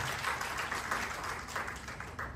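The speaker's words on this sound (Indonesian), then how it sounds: "Beri tepuk tangan yang meriah bagi Allah kita." Applause from a church congregation during a worship sermon comes through as fairly faint, continuous clapping with a rustling, uneven texture.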